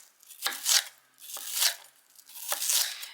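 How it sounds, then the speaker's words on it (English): A knife chops onions into smaller chunks on a kitchen board in three separate crunchy strokes, each with a short slicing rasp, close and fairly loud with no speech. "I'm trying to cut them in smaller chunks"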